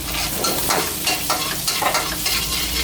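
Garlic sizzles and crackles steadily in a hot pan as it is stir-fried for Thai nham with eggs, the loud frying broken by repeated stirring scrapes.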